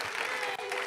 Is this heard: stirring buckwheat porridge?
no